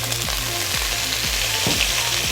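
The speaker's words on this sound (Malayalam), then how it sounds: "അപ്പം നമ്മുടെ ഇതിലോട്ട് ഇനി നമുക്ക് സവാള ഇട്ട് കൊടുക്കാം." Sliced onions sizzle steadily in a hot pan for a Kerala tapioca curry, a loud, close frying hiss broken by a few soft stirring scrapes.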